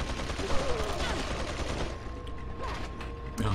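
Rifle shots and gunfire in Resident Evil 4 against a busy game backdrop of mechanical clatter and creaks, with sharp bursts around the start and end.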